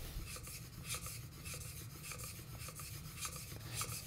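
A hand plane blade is rubbed back and forth on a sharpening stone, a steady close gritty rasp that pulses with each stroke, with no voices.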